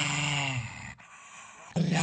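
A dog on a TV show gives a low, rumbling growl, close and fairly quiet, broken by a short pause before the growl rises sharply again.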